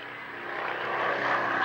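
A propeller aeroplane engine drones steadily during fast rolling aerobatics at an air display, growing gradually louder as the aircraft comes closer, with no talk over it.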